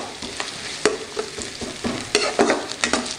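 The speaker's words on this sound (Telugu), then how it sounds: "ముందుగా దీనిలో పచ్చిమిర్చి, ఉల్లిపాయలు, కరివేపాకు వేసి ఉల్లిపాయలు దూరగా వేగేంత వరకు వేయించుకుందామండి" Green chillies, onions and curry leaves frying in hot oil for chicken fry, a loud close crackling sizzle with quick bursts of spatula stirring and scraping against the pan.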